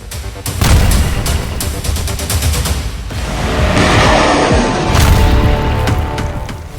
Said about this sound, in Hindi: इजराइल मिलिशिया फाइटर्स को मिसाइल धमाके से उड़ा रहा है।